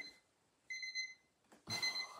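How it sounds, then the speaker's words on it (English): A kitchen cooking timer goes off in two bursts of bright, steady electronic beeping, a short ring followed by a louder second one, with no talking. "That's a timer that I used earlier when Mark and myself were cooking dinner, and it's just gone off"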